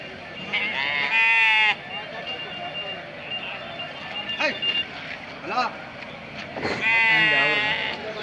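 Sheep and goats bleat in bursts at a busy livestock market in Tumakuru, with loud wavering calls near the start and end and a crowd of voices talking throughout.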